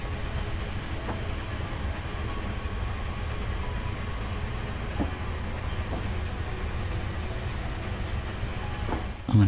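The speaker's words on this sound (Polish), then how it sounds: "Aby lokomotywa mogła się rozpędzać." A steam locomotive hauling a passenger train through mountains in Train Simulator 2021 accelerates with a steady rolling rumble and scattered rhythmic rail clicks, ending in a louder clunk.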